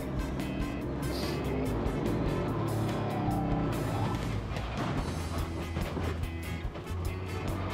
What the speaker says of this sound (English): This is me slow driving the car.